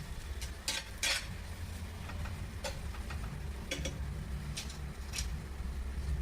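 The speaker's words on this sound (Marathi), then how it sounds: "आता हे सर्व छान परतून घेऊन त्यामध्ये छोले टाकून घ्यायचे आहेत।" Chickpeas tossed with spices and crushed roasted kasuri methi in a pan give a quiet, continuous sauté hiss, with scattered light clinks and scrapes of a spoon stirring against the pan.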